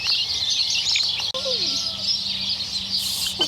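Chickens and a rooster cluck and chirp close by in a steady outdoor bustle, with a short rising call midway through the clip.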